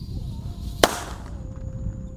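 A tikus santor ground firecracker sets off a single sharp bang near the middle over a rumbling outdoor background, followed by a brief fizzing hiss and a thin whistle-like tone.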